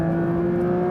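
A Porsche 911 S/T engine hums steadily at about 3,500 RPM while cruising at 80 miles an hour on the highway, a constant droning tone with road noise and no talking.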